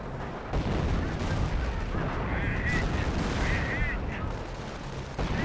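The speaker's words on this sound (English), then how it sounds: "Lots of allied artillery." Allied artillery pounds away in the World War II strategy game Company of Heroes, with a dense, continuous roll of loud booms and gunfire alongside a few faint chirping tones.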